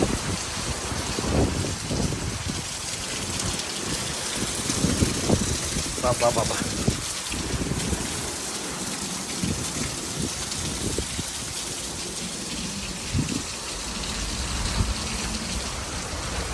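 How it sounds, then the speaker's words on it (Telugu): Heavy rain falls steadily, a dense constant patter and hiss on surfaces throughout, while people talk now and then over it. "ఇక చూడండి ఫుల్ వర్షం వస్తూ ఉంది"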